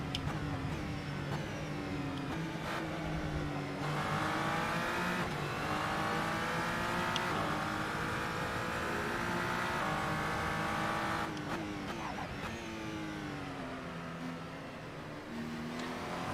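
A race car at the Daytona circuit in Assetto Corsa roars continuously, its engine pitch rising and falling through repeated gear changes as it accelerates and brakes, loud and close with no voices.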